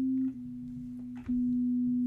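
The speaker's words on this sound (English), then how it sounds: "just a sine wave, a pure sine" A pure sine-wave sub bass from an ESS24 synth loaded in its default state, with a tweaked attack and release envelope, hums as a steady low tone that dips briefly twice, alone with no talk.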